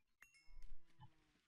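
Cows in a Minecraft-style survival video game give short, low synthetic moos, with a few soft clicks and game effects around them, fairly quiet and with no talking.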